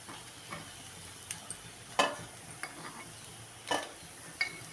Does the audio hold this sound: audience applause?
no